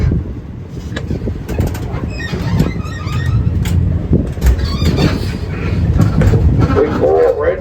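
A tour tram rolling around Daytona International Speedway, with a low mechanical rumble, rattling and clanks as it moves, plus brief higher squeals and a guide's voice talking over the ride.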